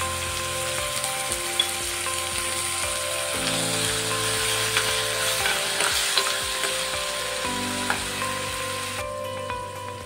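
Onion paste sizzles and fries in a pan for a drumstick curry while it is stirred. The frying crackles steadily and close up, with stirring scrapes and a background hum, and no speech.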